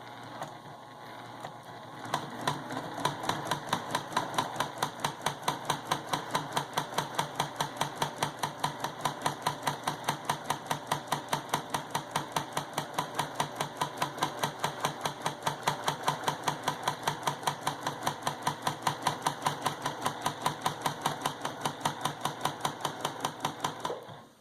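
A sewing machine stitches a free-motion quilted spiral outward from a center point toward a marked 3-inch circle in a sunburst pattern. It runs at a steady, rapid rhythmic chatter up close and continuously, with no talking.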